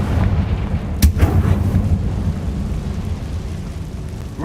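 A Confringo fire spell blasts in the Hogwarts Legacy video game, one sharp booming burst over a steady low rumble of game background.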